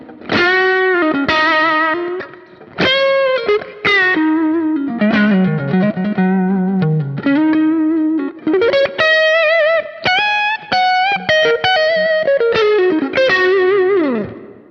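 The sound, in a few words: electric guitar through Kemper Profiler, Klon-style overdrive off then on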